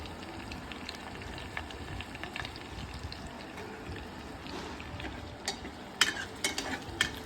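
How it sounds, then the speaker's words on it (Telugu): Finely chopped onions and green chillies frying in a pan, a soft steady sizzle with scattered spatula scrapes and clinks that grow louder near the end. "అలా ఆనియన్ బాగా వేగడం వల్ల రుచి కూడా బాగా ఉంటుంది."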